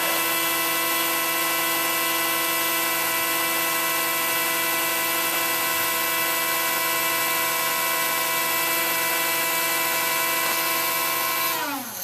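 Small 20mm computer fans in a desktop PC whir loudly with a steady, piercing high-pitched whine that holds constant, then spins down abruptly at the end.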